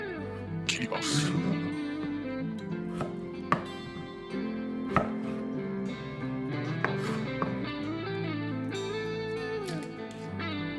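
A knife chops small pieces of peeled potato on a cutting board, giving sharp, irregular knocks close by, set over a steady background hum, while someone talks throughout.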